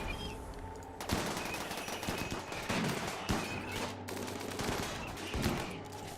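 Colonists firing guns at a Scyther in RimWorld, dense continuous rapid gunfire with sharp louder cracks throughout, loud and steady with no talk.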